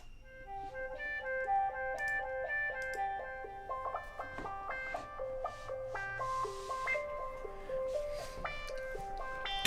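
Music from a self-made CD album plays steadily and fairly loud, a bright, layered electronic melody with stepping synth-like notes and no voices.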